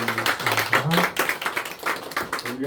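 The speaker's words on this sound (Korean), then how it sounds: "우리 하나님께 영광의 박수를 올리겠습니다." A church congregation claps in a dense burst of applause during a Sunday service, many hands patting together unevenly, with some voices mixed in.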